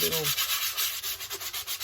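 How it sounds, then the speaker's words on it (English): 220-grit sandpaper rubs back and forth over a 3D-printed plastic Stormtrooper helmet in quick, even strokes, close by and continuous, with no voices. "we've got 220 sandpaper"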